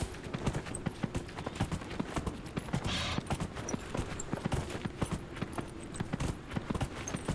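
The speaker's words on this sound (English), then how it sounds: "I love having a horse" Steady, rapid clip-clop of a horse's hooves while riding in the video game Dragon Age Inquisition, a quiet, continuous rhythmic trot with no voices.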